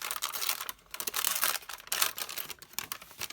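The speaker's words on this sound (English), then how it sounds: "Love the crinkle sound." Paper being ripped and crinkled close by: a dense, crackling rustle with irregular bursts and brief pauses, quiet and with no voices.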